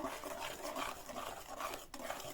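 A spoon stirring thick apple pie batter in a bowl, soft repeated scraping and squelching strokes, close and quiet, with no talking.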